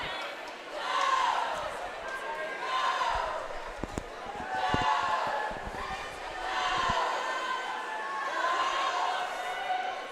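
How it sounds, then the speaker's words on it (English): Teammates at a high school senior night swim meet cheer on a lone swimmer finishing her race, rising and falling waves of crowd shouting in a reverberant pool hall, with a few thuds mixed in. "Teammates cheering her on"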